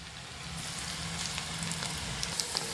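Okra pieces coated in besan batter fry in hot oil, giving a steady, close sizzle with scattered crisp crackles and pops. No voices are heard.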